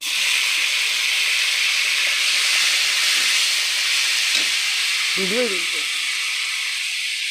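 Tomatoes with a pinch of asafoetida fry in a pan, giving a steady, loud sizzling hiss that lasts the whole time, with a faint low voice briefly rising near the end.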